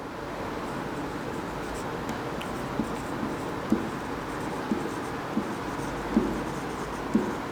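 Chalk or marker taps and scratches on a board as a teacher writes during an electricity lesson, a steady run of small strokes spaced every second or so over a low room hum.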